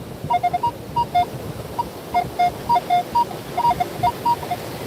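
A metal detector's short, repeated electronic target-tone beeps chirp in irregular bursts over a steady rushing background noise, with no voices.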